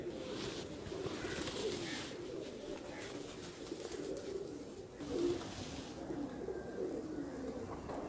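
Soft, low cooing from pigeons repeats steadily against a quiet background, fairly close but faint.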